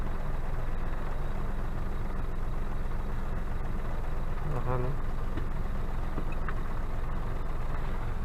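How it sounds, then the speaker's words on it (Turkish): A car engine idling steadily after its dead battery was jump-started with a cordless drill battery, running so the battery can recharge; a continuous low hum holds throughout with a few faint background noises. "Şimdi aracı bir süre böyle çalıştıracağız."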